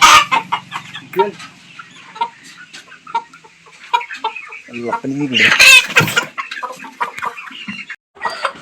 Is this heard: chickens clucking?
yes